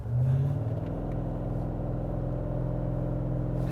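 2022 BMW Alpina B8 accelerating hard toward the Autobahn, a loud continuous engine roar with rising tones that holds steady throughout, no speech.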